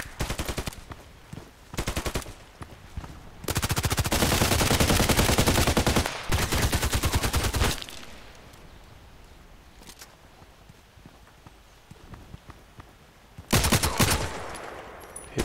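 Gunfire in the online shooter Contract Wars: loud bursts of rapid automatic fire come in several clusters, each a second or two long, with quieter shots and movement noise in between.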